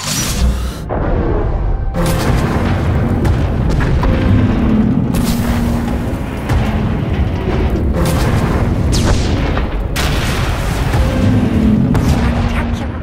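Explosions from a failsafe firing in the Star Wars: The Old Republic Onslaught expansion, a continuous wall of loud, deep booms and rumbling blasts that keeps going without pause.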